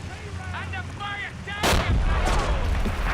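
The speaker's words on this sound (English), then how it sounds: "That's a whole lot of mortars just firing at tanks." Mortars open fire in the wartime strategy game Men of War: Assault Squad 2 during a British fortress battle. A sharp, loud blast cuts in over quieter whistling tones and is followed by rolling rumbles of further bombardment.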